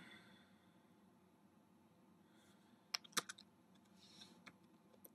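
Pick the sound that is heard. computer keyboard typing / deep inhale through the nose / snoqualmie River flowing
computer keyboard typing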